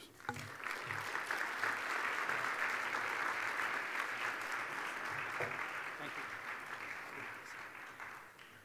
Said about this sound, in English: please give me a warm applause